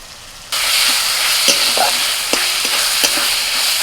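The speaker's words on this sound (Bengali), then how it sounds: "পেঁয়াজটা একটু ভাজা ভাজা হলে দিয়ে দিচ্ছে আদা বাটা" Onion and ginger paste fry in hot oil for a village-style mutton dish, giving a loud, steady sizzle. Spoon strokes scrape and clink against the pan at a regular pace.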